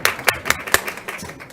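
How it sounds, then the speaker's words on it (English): A small audience at a school board meeting claps briefly, a handful of sharp, uneven claps that quickly thin out and fade. "You should clap for that, actually."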